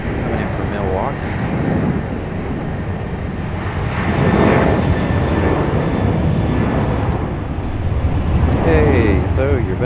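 A Frontier airliner arriving from Milwaukee at Raleigh-Durham International rumbles steadily as a broad jet roar, swelling louder around the middle and near the end, with a voice talking over it at times.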